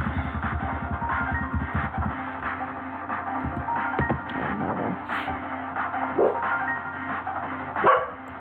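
A dog barks in a rapid run of sharp yips, loud and close, with further scattered barks and whimpers during a Pokemon Brick Bronze gaming session.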